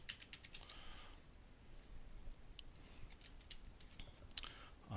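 Scattered keyboard clicks from someone typing text at a computer, with faint bursts of tapping near the start and end and quiet gaps in between, no voices.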